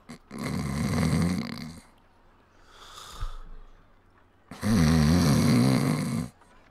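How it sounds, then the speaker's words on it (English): Guards in the Pillars of Eternity video game snore very loudly, with two long, rasping breaths separated by a quieter pause and a faint snort between them, and no talk. "Very loud snores."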